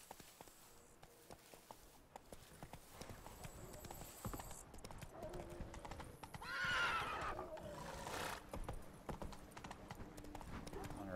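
Geralt's horse Roach gallops in the video game Witcher 3 with steady clip-clop hoofbeats and a brief whinny, mixed with game music and voices.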